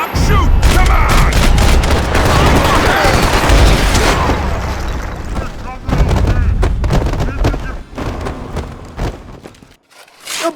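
Gunfire in the video game Max Payne 3, a dense, loud barrage of rapid shots and blasts that continues almost the whole time, thinning out near the end, with voices shouting over it.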